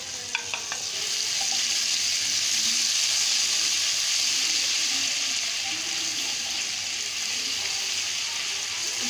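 Garlic and chili paste frying in a pan over a low flame, a steady soft sizzle with a few stirring clicks at the start, continuous and fairly quiet throughout.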